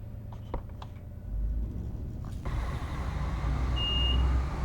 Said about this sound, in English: All right, stop beeping at me.